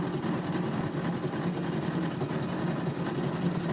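A Janome sewing machine runs continuously at a steady speed, producing a close, even mechanical whir and hum with no pauses.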